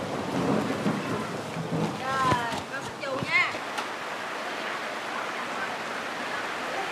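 Steady rain falls during a rainstorm while rumbles and cracks of thunder break out in the middle, moderately loud, then the downpour continues as an even hiss.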